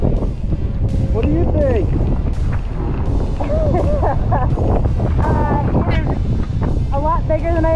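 Strong cold coastal wind buffets the microphone with a constant roaring rush at Haystack Rock on the Oregon Coast, while people talk and call out over it outdoors.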